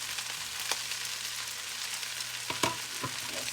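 Shrimp fried rice sizzles in a hot pan while being stirred and turned, a steady close frying hiss with a few scraping knocks of the utensil near the end, no voices.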